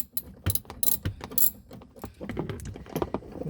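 Rapid ratchet clicking from a ratchet with a 10 mm socket loosening a car tie hook bolt under a RAV bumper, quick metallic bursts close by with short pauses.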